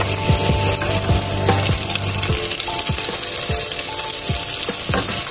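Chopped onion fries in hot oil over browning garlic, a steady dense sizzle with repeated scraping stirs at a regular pace, close and loud with no voices.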